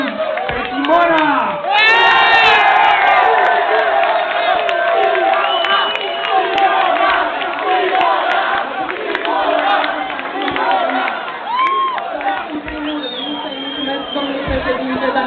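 A club crowd at a Bucharest event cheers and shouts loudly and continuously, a dense roar of many voices with whoops rising above it, filling the room throughout.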